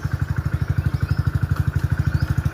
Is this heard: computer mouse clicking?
no